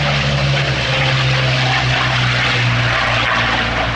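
A WWII fighter's propeller engine at an airshow drones loud and steady, a thick continuous roar with a sustained low tone and no talk over it.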